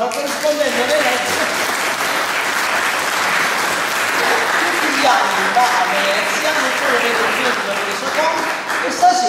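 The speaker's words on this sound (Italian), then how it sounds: "facciamo un applauso al corrispondente da Venezia." Evening audience applause at a cultural club talk on the Venice film festival, with steady, full clapping from a crowd and a murmur of voices underneath throughout.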